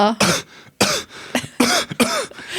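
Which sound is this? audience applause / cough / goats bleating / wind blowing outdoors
cough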